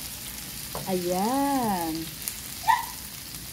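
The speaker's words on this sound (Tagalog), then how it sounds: "Igigisa ko muna siya bago ko ilagay ang ating Sprite" Butter shrimp sautéing in a pan, a steady soft sizzle running throughout, with a brief spoken word and a short voiced tone over it.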